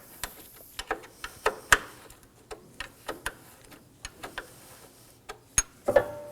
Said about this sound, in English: Now we can get the two 10mm out. In this case, I'm using a wrench.